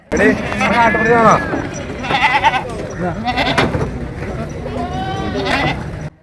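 Goats at a livestock market, including Malabari breeds, bleat in repeated loud wavering cries close by, mixed with the chatter of traders and buyers.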